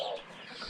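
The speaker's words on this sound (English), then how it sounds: "He's my pet rooster." A brief rooster call, close and fairly loud, a single rough crowing note that fades out quickly.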